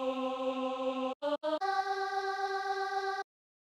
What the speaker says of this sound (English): And in Sample Reducer, it'll sound like this.